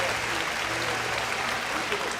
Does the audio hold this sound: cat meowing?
no